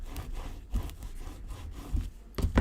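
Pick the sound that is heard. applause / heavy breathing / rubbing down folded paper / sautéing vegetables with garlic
rubbing down folded paper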